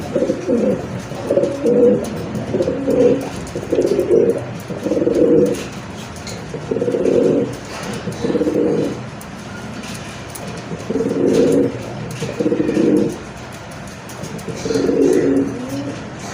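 Pigeons coo repeatedly in low, throaty rolling phrases, close and fairly loud, with brief pauses between calls and no talking.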